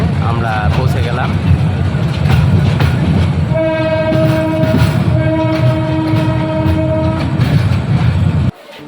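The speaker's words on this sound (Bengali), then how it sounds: "আমাদের ট্রেনটি ধীরে ধীরে কমলাপুর রেল স্টেশন প্ল্যাটফর্মের দিকে এগিয়ে যাচ্ছে।" A train rolls slowly into Kamalapur railway station in Dhaka on the Narayanganj line, with steady rumbling wheel noise and a long, loud horn blast sounding in the middle before the sound cuts off abruptly.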